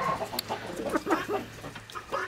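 A chicken on a farm clucks repeatedly in short, choppy bursts, fairly close, with other fowl faintly in the background and no talking.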